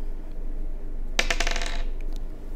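Coins dropping and clinking together during a game of the Foodies board game, a short burst of bright metallic jingles lasting under a second over a quiet background hum.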